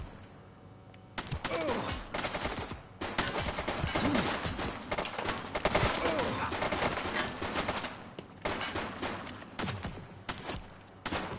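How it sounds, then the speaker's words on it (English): Gunfire from a police shootout in the video game The Precinct: dense, sustained bursts of shots that run almost unbroken for about ten seconds, loud and close, with a brief lull near the end. "Shots fired!"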